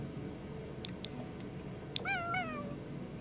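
A cat in The Sims 4 lets out one short, clear meow over a steady low background hum, with no talking.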